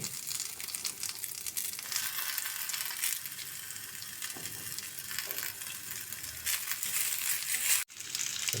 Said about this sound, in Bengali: আমি বকচয়গুলো সামান্য 2 মিনিটের মতো ভেজে নিলাম।